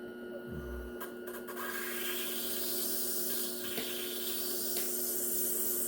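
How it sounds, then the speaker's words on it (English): Topaz stone being ground by hand into a rough shape on a spinning lap, a steady close rasping hiss over the motor's hum with a few short scrapes. "we're just going to grind a rough shape of what we're going for in the stone by hand"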